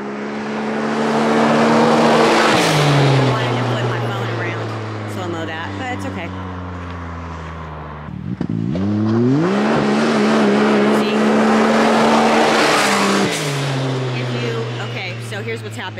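A Stage 4 tuned X100 vehicle prone to wheelies is run hard at full throttle, its loud, close engine note climbing and falling in two long acceleration sweeps with a brief dip between them.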